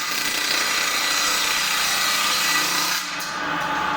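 A saw blade on test cuts through wood with a loud, continuous, close-up rasping whine that holds steady throughout and dips only briefly near the end.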